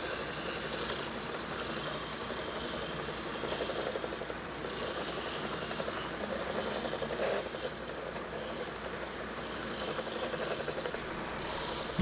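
An oscillating sander works over a glued wooden puzzle box, giving a steady, continuous rasping drone at moderate level that holds without pause throughout, with slight shifts in texture as the piece is turned.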